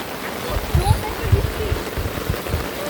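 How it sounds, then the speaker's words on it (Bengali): Heavy rain on a rainy day, a steady dense patter with water splashing nearby, moderately loud and continuous throughout. "ভীষণ ভালো বৃষ্টি ছিল এদিন"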